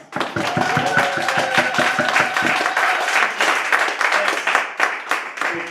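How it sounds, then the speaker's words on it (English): An audience at a real estate marketing seminar claps for a speaker's introduction, loud close claps building into sustained applause with some cheering tones, tapering into scattered claps near the end. "give him a lot of energy and a big round of applause"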